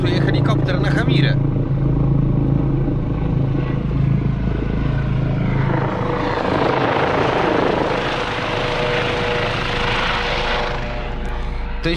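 A helicopter's loud rotor thump and engine whine fill the air throughout, swelling as it passes close overhead.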